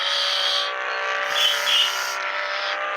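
Bugatti Veyron accelerating in Bus Simulator Indonesia, a steady high-pitched engine whine held loud and close throughout, with brief tyre-squeal-like chirps partway through and no talking.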